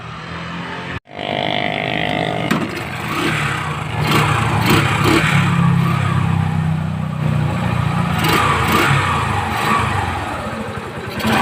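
A Yamaha STX 125 motorcycle with a weak stator, just fitted with a tank and spark plug, cranks briefly, then catches and runs steadily with a loud, close engine drone throughout, no talking over it.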